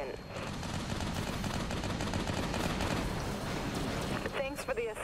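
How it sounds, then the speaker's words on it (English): Continuous heavy weapons fire from warships in the video game Dreadnought, a dense, steady rattle of rapid shots mixed with rumbling blasts, with a synthetic voice briefly heard near the end. "Activating primary weapons, Captain."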